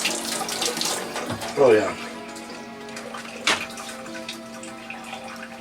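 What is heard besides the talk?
washing hands under a running tap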